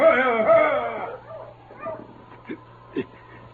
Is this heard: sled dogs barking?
yes